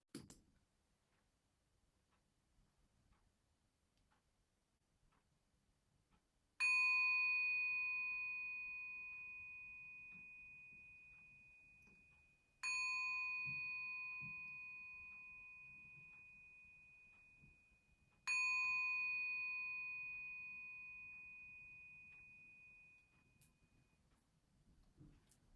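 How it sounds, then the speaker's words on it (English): A meditation bell rings three times at the end of a practice, evenly spaced, each a clear, pure tone struck close and left to fade slowly into near silence. "coming to the end of our practice and receiving the sound of the bell"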